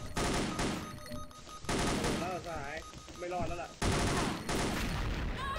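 Rapid bursts of automatic gunfire from the shooter game XSHOT, repeated volleys in loud stretches separated by short pauses, with players talking over the shooting.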